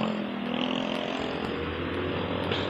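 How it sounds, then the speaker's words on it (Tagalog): A delivery motorcycle engine hums steadily while riding slowly along a road, with constant close rumble and wind noise and no break. "Mabagal lang yung motor natin,"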